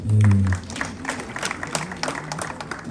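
Guests at a wedding break into applause after a brief loud voice at the start, the clapping continuing as a busy, moderately close patter.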